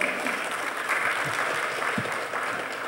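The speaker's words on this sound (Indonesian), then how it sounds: "Ini tepuk tangan untuk Kominfo." An audience applauds at the launch of the Demak regency CSIRT in 2022, with continuous, even clapping throughout, moderately loud and slightly distant, plus a couple of soft thumps.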